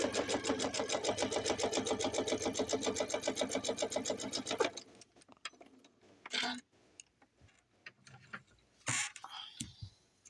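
A sewing machine fitted with a quarter-inch walking foot stitches quilt binding in a fast, even rhythmic run for about five seconds, then stops, followed by quiet handling noises and soft speech.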